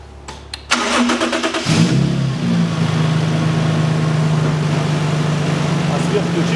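A Toyota Mark II JZX101 engine cranks briefly after an antifreeze change, catches with a rising rev, then settles into a steady, even idle close by.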